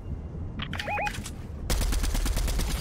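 Fortnite gameplay gunfire: a few scattered shots and game effects first, then a sustained rapid burst of automatic fire, loud and close.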